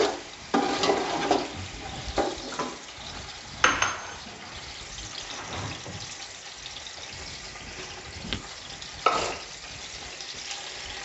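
Onion and garlic fry in a pan for beef pulao while being stirred, with a soft sizzle under repeated scraping and clattering strokes of the spoon, close and without speech.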